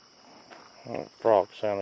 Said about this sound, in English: That frog sounded kind of hideous.